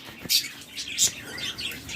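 Lovebirds and budgerigars chirping at a bird farm, a few short, high tweets in quick bursts, soft and slightly distant, with no voices.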